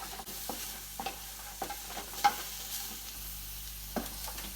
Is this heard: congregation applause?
no